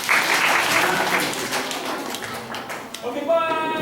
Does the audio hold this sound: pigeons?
no